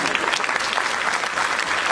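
An auditorium audience of engineering students claps steadily and densely at a poetry recitation, loud and continuous throughout.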